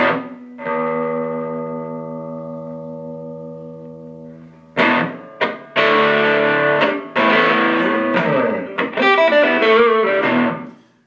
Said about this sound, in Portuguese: Passamos agora para o teste com distorção.